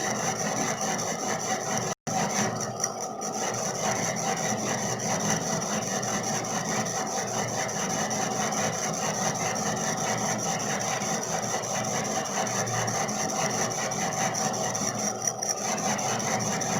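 A lathe tool fed slowly by handwheel into a metal workpiece during step turning gives a steady, continuous machining hum with a rasping, scraping texture throughout, close and even. One brief dropout breaks it early on.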